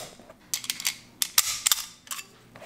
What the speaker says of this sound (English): You just drop a bullet in, click it down.